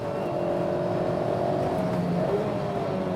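A Mazda MX-5 engine driven hard on a race track, heard from inside as a loud, continuous drone with rising and shifting engine tones, no talking.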